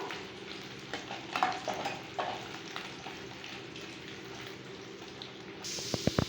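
Garlic and chilies sautéing in oil for a garlic tomato chutney, with a soft, fairly quiet sizzle and scattered stirring scrapes, then a few sharp knocks against the pan near the end.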